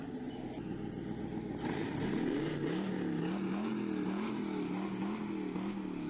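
A 16-cylinder engine drones loudly and continuously, its pitch climbing and then wavering in a gentle rhythmic rise and fall, with no voices over it.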